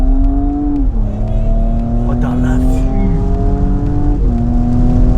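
Porsche Cayenne E-Hybrid SUV, about 2.5 tonnes, pulling hard from a rolling start, its engine note rising steadily with a gear change partway through and another near the end, loud and close inside the cabin, with brief talk over it.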